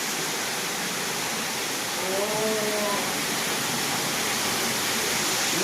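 Water falls from above in a park, a steady broad rushing wash that persists throughout, with a brief faint tonal call rising in the middle of the noise.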